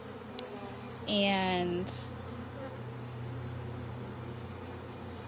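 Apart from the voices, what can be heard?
honeybees buzzing in a hive box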